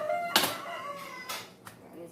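A rooster crows a few times at moderate distance, with bursts of noise between the calls, while a person's voice is faintly present.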